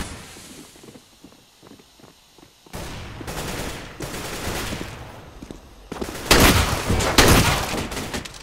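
Video game gunfire, starting as a run of quiet, evenly spaced suppressed shots, then giving way to louder, denser automatic bursts that grow heavier and harsher toward the end.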